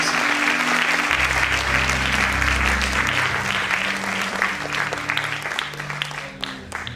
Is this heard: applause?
yes